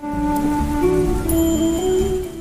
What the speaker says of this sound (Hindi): चल तू अंदर चल, बारिश हो रही है।